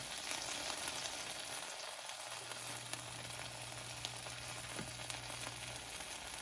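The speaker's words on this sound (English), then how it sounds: "you only want to let that brown up for about a minute or so, really, because this is, the butter's going to have it real nice and golden" A breakfast quesadilla browning in butter in a pan gives a steady, faint frying crackle that holds evenly throughout, with a low hum running beneath it.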